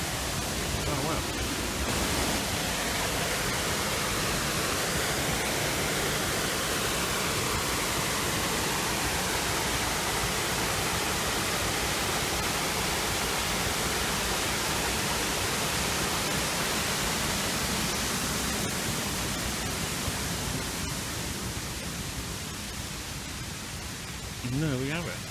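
Waterfall at a historic blast furnace and water mill site in North Wales, a steady, loud broadband roar of falling water filling the whole stretch without pause, with brief exclamations from people nearby.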